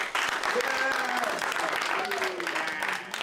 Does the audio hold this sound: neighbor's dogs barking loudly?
no